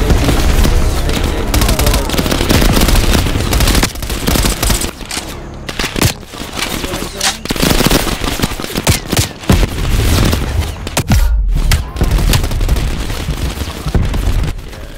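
Dense gunfire from Call of Duty Black Ops Cold War, with sustained loud bursts of automatic shooting and booming impacts, the shots coming in rapid volleys with brief gaps in between.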